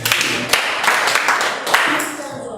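A classroom of pupils claps together for themselves in a continuous near patter of hands lasting a couple of seconds, with a few sharper accented claps standing out.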